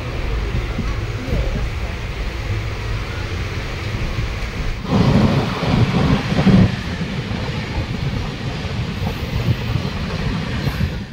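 The Black Diamond Express rumbles steadily along the rails near the Barakar river, a loud continuous roar with a heavier clattering stretch in the middle, and a voice speaks over it.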